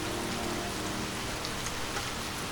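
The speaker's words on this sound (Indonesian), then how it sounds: "Di tengah derasnya hujan," Heavy rain pours down steadily and loudly, a dense, unbroken hiss of drops hitting surfaces with no voices or other sounds.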